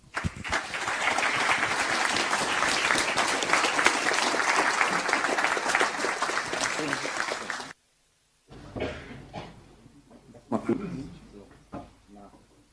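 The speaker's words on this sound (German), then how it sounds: "Ein Applaus bitte." Audience applause at an evening talk on artificial intelligence and neural networks, loud sustained clapping from a crowd that cuts off abruptly, followed by someone speaking at the microphone with handling noises.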